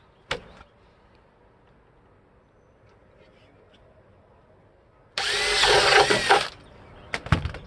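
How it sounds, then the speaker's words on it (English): A power drill whirs loudly for about a second and a half, cutting off abruptly, with a couple of sharp knocks before and after. "I'm gonna drill a couple holes for mine."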